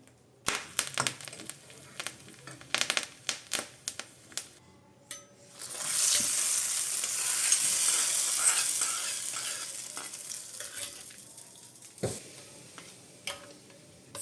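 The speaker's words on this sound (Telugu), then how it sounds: "ఒక హాఫ్ స్పూను ఆవాలు వేసుకొని ఇది కొంచెం ఫ్రై అయిన తర్వాత" Mustard seeds crackle and sizzle in hot oil in a pan for several seconds, preceded and followed by sharp clicks and stirring taps.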